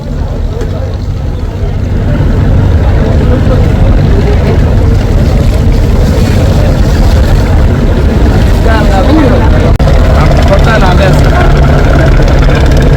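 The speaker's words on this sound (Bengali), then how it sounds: "এর মধ্যে দেখতেছেন সুন্দরবন 16 লঞ্চ ইয়াদ 1কে ধরে ফেলছে অলরেডি, ওভারটেক করে ফেলবে।" The engine of the passenger launch Sundarban 16 drones loudly and steadily as it overtakes the launch Yaad 1 on a river, with someone speaking over the constant low rumble.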